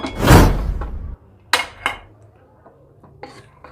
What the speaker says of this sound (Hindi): फिर हम प्रेशर कुकर का ढक्कन खोल देंगे